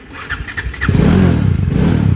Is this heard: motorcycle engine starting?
yes